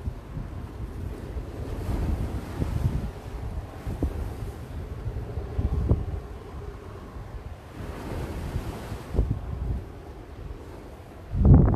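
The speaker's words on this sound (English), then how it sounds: "some big waves out there today." Big ocean waves roll and break under strong gusting wind, with surges of surf swelling and fading and heavy wind buffeting the microphone, ending in a sharp louder gust.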